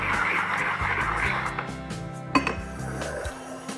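Half a teaspoon of sugar swirled around inside a ceramic ramekin while making mango crème brûlée, a steady gritty rolling rasp with light clinks against the dish and one sharper knock near the middle, heard alone.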